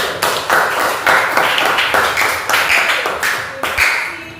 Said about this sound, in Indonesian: Tepuk tangan dulu buat kelompok kepala.